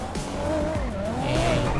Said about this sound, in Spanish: Ay, Dios mío, este carro corre demasiado